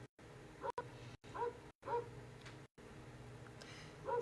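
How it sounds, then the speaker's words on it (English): A dog barks several times in short bursts indoors, the yips recurring every half second or so over a steady low background hum, with no talk. "I have no idea what he is barking about."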